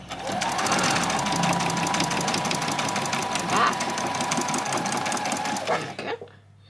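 Sewing machine stitching back and forth across a doll's dress, a steady close mechanical whir that runs continuously for about six seconds before stopping abruptly.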